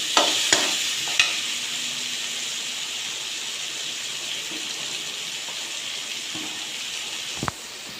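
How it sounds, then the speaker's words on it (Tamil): Greens being sautéed with cooked moong dal in a pan, a steady close sizzle with a few sharp clinks of a utensil on the pan and a louder scrape near the end. "இதை வதக்கிட்டு இதோட கீரையை சேர்த்து ஒரு வதக்கி"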